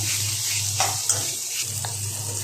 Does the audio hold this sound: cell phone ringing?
no